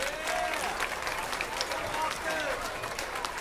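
Audience applause for a youth swine showing class fills the space in a steady, dense wash of clapping that holds at an even level throughout, with a voice faintly present beneath it.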